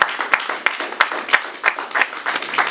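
Scattered clapping from a small audience at an honorary community event, uneven individual claps in a loose rhythm, fairly close and moderately loud.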